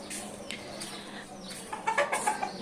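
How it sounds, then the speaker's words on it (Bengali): Chickens in a backyard coop cluck in short, uneven calls at moderate distance, growing busier toward the end over a quiet outdoor background. "এদিকে আমি মুরগি পালন করি"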